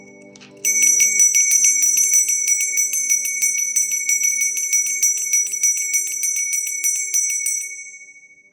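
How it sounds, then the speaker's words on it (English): A small bell is struck rapidly and repeatedly, giving a bright, ringing trill that sounds near and clear, sustains steadily for several seconds, then fades out. "I'm going to ring the bell, clear your energy"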